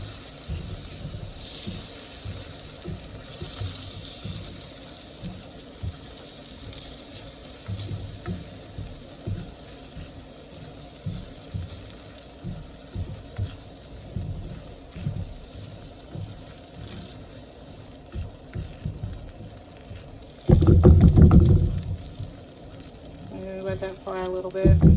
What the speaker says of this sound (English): just fry my rice